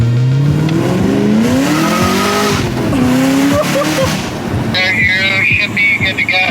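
A Camaro ZL1 1LE race car runs hard on track, its engine revving up and down in loud sweeping pitches while the tires squeal, with a sharp higher whine entering near the end.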